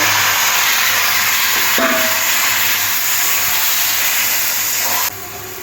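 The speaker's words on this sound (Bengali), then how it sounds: "এবারে সিদ্ধ করা ডালটা দিয়ে দেব" Boiled khesari lentils go into a sizzling tempering of dried red chilli, bay leaves and whole cumin, giving a loud, steady hiss and crackle that shifts briefly as the lentils hit the hot oil, with no talking.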